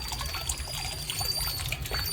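Stored rainwater from garden barrels pours out through a green pipe, a continuous splashing trickle close by with small bubbling gurgles and no talk.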